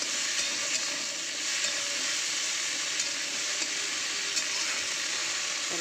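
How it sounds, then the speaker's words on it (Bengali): Okra and chopped onion frying together in reused cooking oil, a steady dense sizzle with soft crackles running unbroken and close throughout, no voices. "তাহলে ঢেঁড়স ভাজাটা হতে হতে আমি আজকে একটা মাছ বানাবো"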